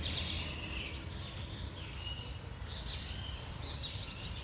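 Birds chirp and sing faintly on a quiet morning outdoors, scattered high calls over a low, steady background rumble of distant traffic.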